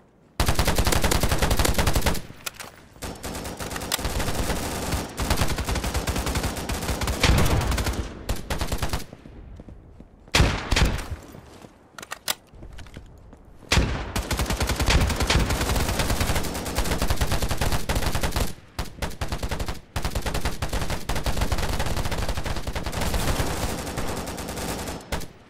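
Scoped rifle fire in DayZ, sustained loud automatic-sounding bursts rattling almost continuously for long stretches, broken by a couple of short silent gaps, with no talking.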